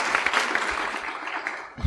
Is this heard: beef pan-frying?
no